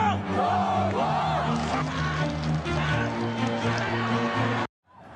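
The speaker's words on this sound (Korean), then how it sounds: "경기 중엔 욕설과 막말을 쏟아냅니다" Chinese football fans in a stadium at a China versus Japan match shout and jeer as a loud, dense crowd roar with rising yells, which stops abruptly near the end.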